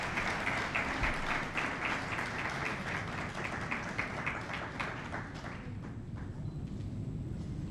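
Conference audience applauding steadily in a large room, a dense wash of many hands clapping that holds for several seconds before thinning out near the end.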